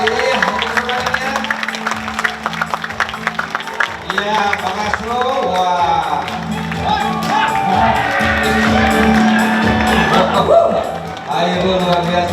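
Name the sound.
applause and cheering from the audience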